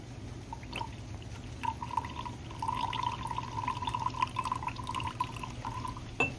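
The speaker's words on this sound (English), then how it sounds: "Watch what happens when I pour some salty well water in here." Salty well water trickles and pours steadily into a container, with a thin ringing tone rising as it fills, fairly close and moderately quiet.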